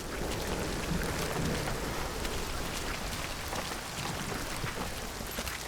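Steady rain pours down in the video game Hunt: Showdown, a dense, even hiss filling the whole clip with no voices and no letup.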